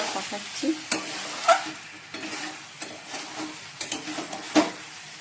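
Chicken is reheated in a pan, sizzling softly throughout while a utensil scrapes and clinks against the pan in irregular stirring strokes, close and fairly quiet, with no talking.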